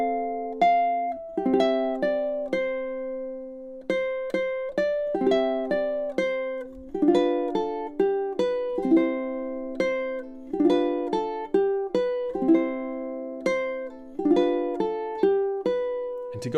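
Ukulele chord melody for the third verse, picked notes and chords ringing in a steady flowing rhythm, played solo and clear for the full stretch with no voices.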